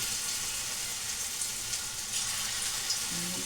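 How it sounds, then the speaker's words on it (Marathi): Paneer sizzling and frying in a pan for paneer 65, a steady crackle of hot oil with occasional soft pops, close and continuous, no voices. "लास्टचं पनीर फ्राय चालू आहे माझ्यासाठी"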